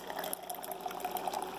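Hot water poured into a British 24-hour ration pack hot drink, a steady liquid trickle that runs close and unbroken under faint room noise.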